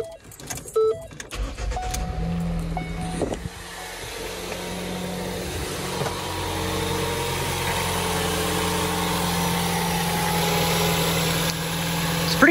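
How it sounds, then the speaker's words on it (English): A car engine settles into a steady, smooth idle just after being started with the key, a low constant hum near the microphone with a brief clatter of handling at the start and no talking. "No unusual funny noises coming out of the engine. Sounds pretty good."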